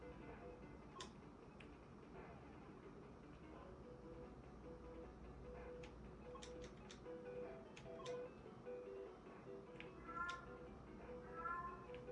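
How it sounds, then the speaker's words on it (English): A hungry cat meows repeatedly over a steady indoor background hum, the short calls near and moderately loud, clustering toward the end amid faint ticking. "That's why she's meowing. She wants food."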